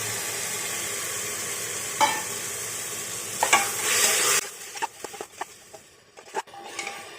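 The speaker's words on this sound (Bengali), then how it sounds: "এটা আমি হাই ফ্লেমে 1-2 মিনিট ভালো করে মাংসটা ভেজে নেব" Lemon-marinated chicken fries on high flame in a pan with a loud steady sizzle that cuts off abruptly. Scraping and stirring clatter follows in irregular bursts.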